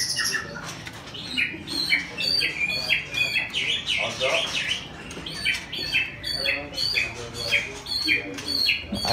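Bright, varied birdsong of an oriental magpie-robin at a songbird market in Indonesia, loud and close, with rapid chirps, whistles and squawky notes repeating throughout, and some background voices underneath.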